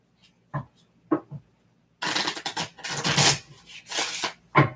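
A few soft papery flicks, then a stretch of brisk riffling and rubbing as a brand-new deck of oracle cards is shuffled close up.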